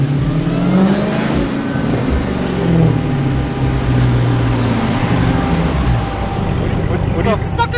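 Car engine of a newly bought car running loud and steady, with revving swells and passing traffic noise, under people talking and shouting nearby.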